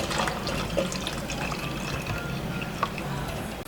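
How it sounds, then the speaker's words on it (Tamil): Water pouring and draining steadily through a strainer from soaked soya chunks, a continuous splashy trickle close by with a couple of small clinks. "இதை ஃபில்ட்ரு பண்ணி எடுத்துக்கலாம் தண்ணியிலேருந்து"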